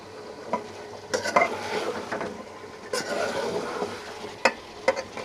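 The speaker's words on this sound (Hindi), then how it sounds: "अब इसको हिलाएंगे।" A chicken and potato curry masala is stirred in a pot, a spoon scraping and clinking against the metal amid a soft sizzle, with a few sharper knocks standing out.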